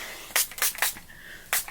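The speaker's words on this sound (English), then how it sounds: "So I start off just by lightly spraying" Argan oil heat defense spray is misted lightly onto hair in four short, close hissing puffs, three quick ones and then one more after a pause.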